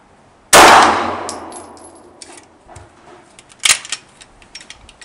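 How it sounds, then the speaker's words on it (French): A 9 mm bullet strikes a steel gong with one loud metallic clang that rings out and decays, followed by a second sharper hit and a few faint clicks, with no talk. "on tire sur un gong. Donc, au 9 mm, la balle va s'arrêter sur le gong"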